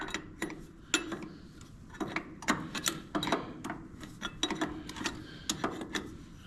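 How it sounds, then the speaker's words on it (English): A wrench clicks and ratchets on a car starter, giving a string of sharp, close metallic ticks in an uneven rhythm, moderately quiet with no talking. "I should probably get the correct wrench."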